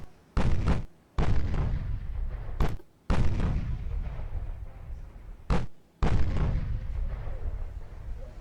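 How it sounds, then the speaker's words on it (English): Naval guns fire in the warship game Ultimate Admiral Dreadnoughts, with five heavy, sharp blasts, each followed by a long rumbling decay, spaced unevenly with some shots cutting into the tail of the previous one. "Those guns sound a little bit different."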